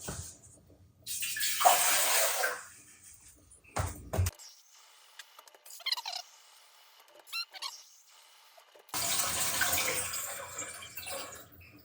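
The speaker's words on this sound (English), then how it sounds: "I fill it with water right up to the bottom of that tray." Tap water runs into a pot holding a jar rack, for mushroom grain jar preparation, in two loud bursts of pouring and splashing separated by quieter clinks and handling noises.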